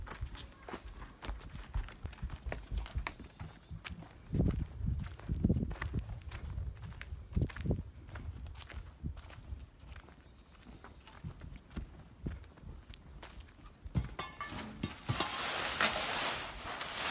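Footsteps stepping down a set of steps beside a Ford F100 truck under a tarp, heard as irregular, close thumps and scuffs over a low background hum, ending in a brighter rush of noise.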